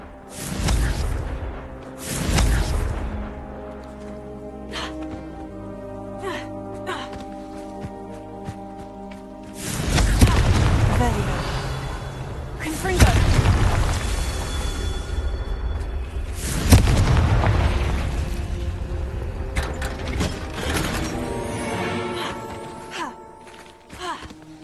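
Confringo explosive spell bursts in Hogwarts Legacy, several loud booming blasts with whooshing and rumbling tails separated by quieter game sounds, with no one talking.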